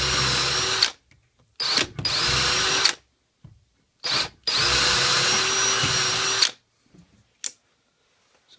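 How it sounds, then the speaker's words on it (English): A power drill bores a hole in wood through a corner bracket, running in several loud bursts of one to two seconds as the bit is pulled up to clear shavings, with short silent gaps between. "you go a little ways and then you want to pull your bit up"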